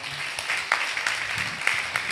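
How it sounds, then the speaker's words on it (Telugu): A church congregation at a Sunday worship service applauding, a short burst of scattered hand clapping from a crowd, moderately loud and steady throughout. "చప్పట్లు కొట్టరా?"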